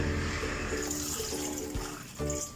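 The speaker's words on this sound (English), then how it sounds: "So what we're going to add is water, about 2 cups initially" Water pours and splashes steadily into a pot, a continuous rushing gurgle close by with no talking.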